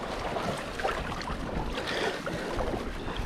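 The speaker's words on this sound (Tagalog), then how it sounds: "Lakas ang alon, hangin kasi lamig." Strong waves wash and churn continuously while cold, gusty wind buffets the microphone on a Bermuda shore, a rough, steady roar with no voices.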